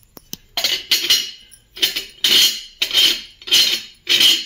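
Metal tumbler lid twisted and handled, with a series of about six bright metallic clinks and scrapes coming in bursts, close and moderately loud, with no talk.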